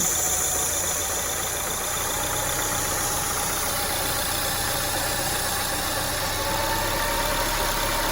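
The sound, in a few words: 2002 Acura RSX Type S engine idle surging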